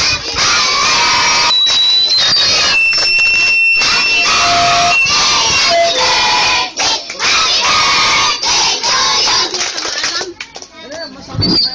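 Guests at a child's birthday party sing Happy Birthday loudly together with clapping, a dense chorus of adult and children's voices throughout, with an announcer's voice leading and a brief dip near the end.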